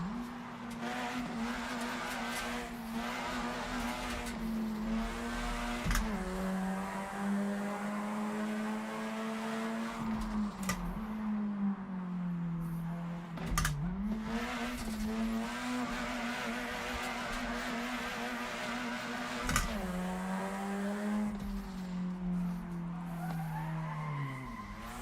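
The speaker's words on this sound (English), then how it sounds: "Right here's like a third gear clutch kick." Video game drift car with clutch kicks in third gear: a sustained engine drone that sags and climbs again with each kick, under steady tire squeal and skidding, loud and continuous with no talk.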